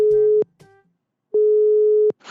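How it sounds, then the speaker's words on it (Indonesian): A telephone call tone sounds while an outgoing call is placed: two long, steady electronic tones separated by about a second of silence, loud and clear with no voices. "Oke, gue langsung telepon si Bang Ucok ini ya."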